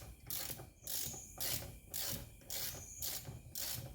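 A 3/8-inch ratchet with a 17 mm socket turning a bolt during a motorcycle fork rebuild, giving a quiet, even series of rhythmic clicking strokes, close up, about two per second.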